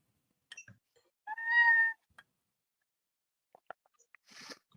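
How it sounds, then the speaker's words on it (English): A single short meow from a nearby cat rises out of a quiet room, with a few faint clicks and rustles before and after. "Oh, that's the cat."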